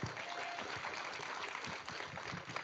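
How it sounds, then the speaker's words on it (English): Audience applause at an awards show, a steady wash of many hands clapping at moderate distance, fairly faint and continuous throughout. "Let's have another round of applause for all of our entertainment partners."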